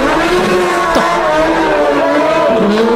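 A car fitted with a Hayabusa motorcycle engine revs hard and accelerates, its high-pitched engine note climbing in steady harmonic sweeps while a tire shreds, loud and close throughout.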